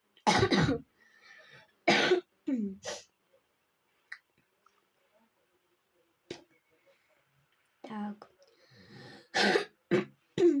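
A few harsh coughs burst out close by, spaced apart, with a short spoken word and quiet stretches in between.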